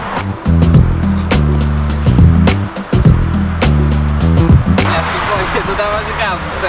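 A DIY electric skateboard rolls close by with a rhythmic, rumbling clatter of its wheels and motor that surges and fades in bursts, while people speak over it.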